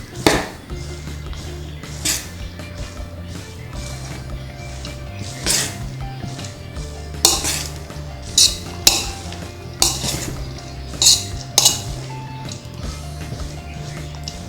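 Boondi is stirred in a metal vessel while sugar syrup is poured in, producing repeated clinks and scrapes of a spoon against the pot every second or so over a low background hum.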